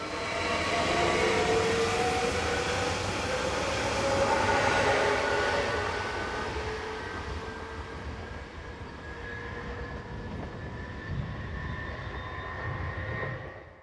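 Swiss passenger train pulling out of the station at Aarau, a loud sustained rumble with rising electric motor whine and wheel noise that gradually eases as it moves off.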